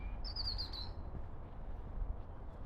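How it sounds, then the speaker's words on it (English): A small bird chirps a quick warbling phrase over a steady low outdoor rumble in Cannizaro Park, Wimbledon, faint and somewhat distant. "listen to the bird song"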